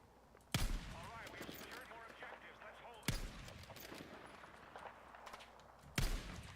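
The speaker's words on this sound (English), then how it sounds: "I am shooting at a guy." Three heavy, booming gunshots in Battlefield 6, spaced a few seconds apart, each ringing out over steady background battle clatter.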